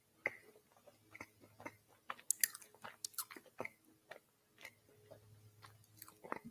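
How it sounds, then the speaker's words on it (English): Someone chews up close with irregular wet clicks and soft crunches, scattered bites and smacks spread unevenly over several seconds, with no voices. "I can't stand the sound of chewing"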